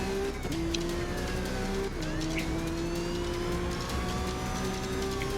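A Lamborghini racing in Need for Speed Rivals, a continuous high engine drone with steady tonal whine and shifting pitch, loud and unbroken, with faint game effects over it.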